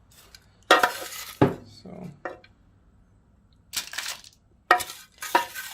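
Potting soil scooped and tipped into a plant pot for gloxinia corms, giving scattered scraping, crunching and knocking bursts against the pot, close and intermittent, with a brief spoken word.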